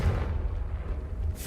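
A Confringo blast spell bursts in the Hogwarts Legacy game, a loud, deep boom with a rumbling low end that sustains briefly, heard alone.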